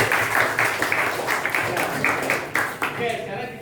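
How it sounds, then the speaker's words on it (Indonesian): Classroom applause for students during a maths lesson, a burst of clapping from many hands heard steadily throughout, with a voice speaking over it near the end. "Sekali lagi tepuk tangan untuk kalian semua."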